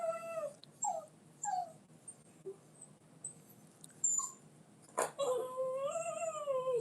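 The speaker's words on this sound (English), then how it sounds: "Oh my goodness, these dogs." Dogs whine and whimper in repeated high, wavering cries indoors, with one sharp bark-like burst before a long drawn-out whine; moderately close and heard alone without talk.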